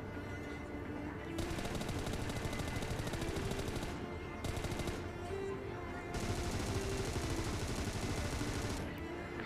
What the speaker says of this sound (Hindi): बस अभी उसको चार पांच बुलेट चिपकाना है बॉडी पे और वो मैं करता भी हूँ